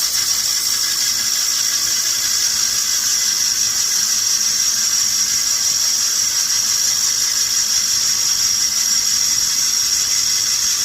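A belt sander bevels small metal pieces spun in a hand drill, giving a loud, continuous high hissing whine with a faint motor hum beneath, steady and unbroken throughout.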